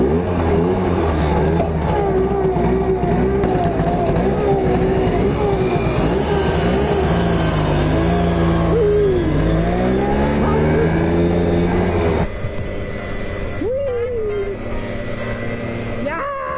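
Simson Schwalbe and Star mopeds riding past, two-stroke engines buzzing and revving with rising and falling pitch, loud and close, with voices faintly mixed in.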